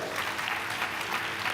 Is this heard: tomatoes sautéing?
no